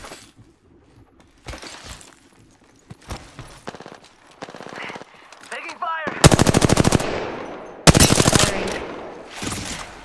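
Gunfire in the battle royale game Apex Legends: scattered single shots and short bursts at first, then loud sustained automatic bursts in two heavy volleys, with clinking mechanical sounds in between.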